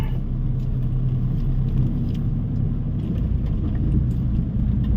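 A truck engine pulling in second gear, a steady close low rumble and drone that continues evenly throughout without rising or falling, with no talk.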